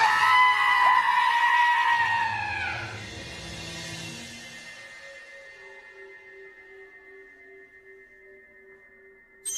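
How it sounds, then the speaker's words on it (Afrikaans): A loud, shrill, bloodcurdling scream rings out as a wax strip is pulled off, wavering and falling in pitch for a few seconds before giving way to a quiet sustained tone. "Het jy daai bloedstollende gil gehoor?"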